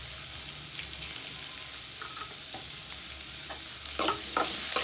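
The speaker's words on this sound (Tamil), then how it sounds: "இப்போ இது எல்லாத்தையுமே வதக்கிக்கணும்." Ginger, tomato, onion, curry leaves and coriander sauté in a pan with a soft continuous sizzle, broken by scraping stirs and spatula taps that grow busier toward the end.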